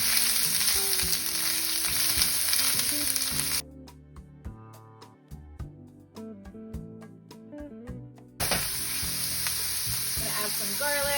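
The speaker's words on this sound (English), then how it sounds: "then you're gonna add some onions, you want to saute that" Onions sizzle in a hot pan with a bright hiss and occasional stirring, which drops out briefly to quieter clinking before the frying returns at full strength.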